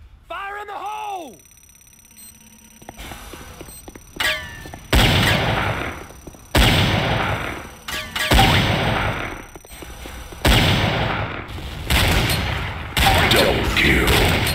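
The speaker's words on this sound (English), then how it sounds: "C4 is set. Fire in the hole." C4 charges detonating during an attack on a GDI weapons factory in a Command & Conquer-style game, a series of loud, heavy booming blasts in quick succession with rumbling tails, preceded by electronic tones and a voice speaking over the action.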